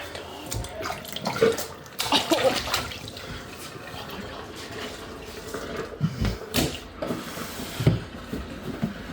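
Tap water runs steadily into a plugged sink, a continuous close splashing rush with a few louder knocks and gurgles, while faint voices are heard in the background.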